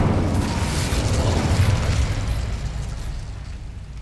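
A fire spell cast in the Hogwarts Legacy video game, heard as a loud, full burst and boom with rumbling roar that gradually fades over several seconds, with no talking.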